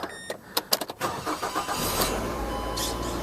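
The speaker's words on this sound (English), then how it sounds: "So we'll go ahead and start the car right now." A 2007 Mazda 3 engine with a failing alternator cranks with several quick sputtering turns, then catches and settles into a steady idle, close by.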